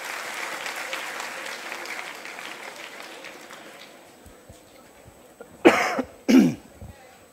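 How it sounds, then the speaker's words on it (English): Applause from an audience at an inter-school quiz competition fills the first few seconds and gradually fades, leaving a quiet room broken by a couple of loud nearby coughs and throat clearing. "Give sir a huge round of applause"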